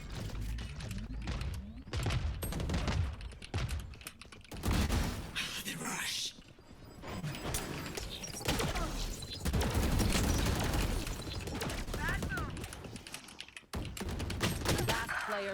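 Rapid, dense volley of missile fire in a competitive shooter video game, loud and sustained, with explosions packed together and voices talking over it.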